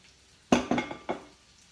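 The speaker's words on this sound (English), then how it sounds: "the onions are going to cook right in with that bacon and the bacon fat and get really flavorful" Onions cooking with bacon in rendered bacon fat, heard as a few distinct clattering, sizzling bursts, likely from stirring in the pan, each fading quickly, close and fairly quiet with no talking.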